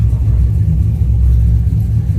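An LS-swapped third-generation Camaro runs as it is shifted into reverse, giving a loud, close, steady low engine rumble with no voices.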